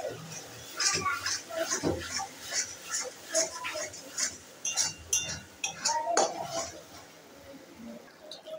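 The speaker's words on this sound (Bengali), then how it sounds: "তো বন্ধুরা, তোমরা দেখতে পাচ্ছ ঘন ঘন নাড়তে হবে, না হয় কড়ার সঙ্গে লেগে যাবে।" A spoon or spatula stirs lote fish in a kadai pan, with repeated metallic scrapes and clinks in an uneven rhythm, fairly close and moderately quiet.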